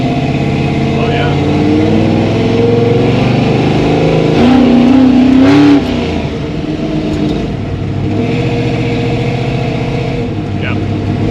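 A 1964 Chevy II rumbles steadily from inside the cabin while driving, a low, loud engine drone with a brief rising rev midway, under people talking.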